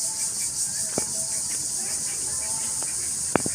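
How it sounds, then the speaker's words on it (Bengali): Crickets trill loudly and continuously in a rural village setting, a high, unbroken buzz filling the air, with a few faint sharp knocks or clicks in the background. "ঝিঝি পোকার প্রচন্ড ডাক শোনা যাচ্ছে।"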